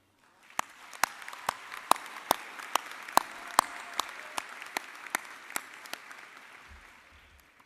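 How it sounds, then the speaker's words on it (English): A university commencement crowd applauds steadily, dense clapping with a few sharp, louder claps standing out, fading toward the end. "You deserve a round of applause for all that you have done."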